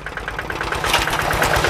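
A motorcycle fitted with a CJDW aftermarket exhaust runs with a fast, steady burbling pulse, close and moderately loud, with no voices.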